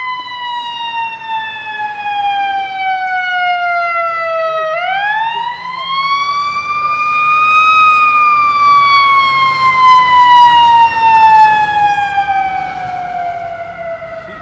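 A fire truck siren wails loud and near on a Philadelphia street as the truck passes, with its pitch falling, sweeping back up and falling again, over low traffic rumble and no talk.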